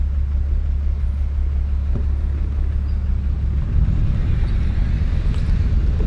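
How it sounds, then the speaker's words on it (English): A rebuilt 1941 Lincoln Continental two-door coupe with a V12 engine idles steadily and quietly nearby, a low even rumble running throughout without talk. "You can hardly hear that engine running."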